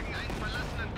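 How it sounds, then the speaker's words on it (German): Mortar fire in the World War II strategy game Company of Heroes 2, Ardennes setting: a dense, loud burst of booming impacts and rumbling blasts filling the whole short moment. "Oh, diese Mörserkacke."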